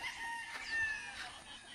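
Farm chickens, broodstag roosters and young birds, cluck and crow in a steady, fairly faint mix, with no voices over them.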